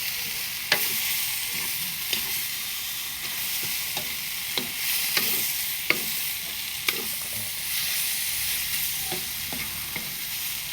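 Luffa gourd stir-frying in a pan with egg and pork, a continuous close sizzle broken by regular sharp spatula clicks against the pan.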